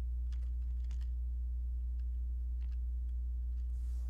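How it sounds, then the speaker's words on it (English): Keystrokes on a computer keyboard as a file name is typed, sparse soft clicks in small bursts over a steady low electrical hum, with no talking. "for my file name I'm going to type my last name"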